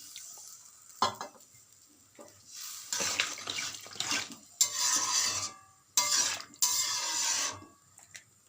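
Water poured into a soya chunk and potato curry in a pan, with bursts of splashing and sizzling as it is stirred in, loud and close, separated by quieter gaps of simmering.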